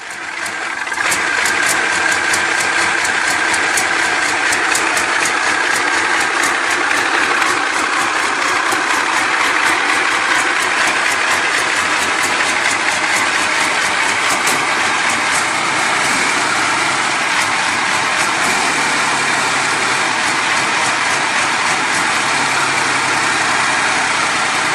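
A legendary old engine, the kind now fitted to extreme custom tractor-pulling machines, idles loudly and steadily without pause, with a dense, even mechanical roar.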